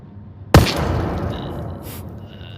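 A single sharp gunshot bursts out loud and close in the Onward VR tactical shooter game, then rings and decays into a steady low rumble with faint high tones.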